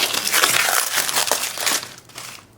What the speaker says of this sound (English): let's get this shrinking foil here